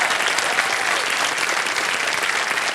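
Studio audience on the Hindi quiz show Kaun Banega Crorepati claps in loud, dense, sustained applause throughout.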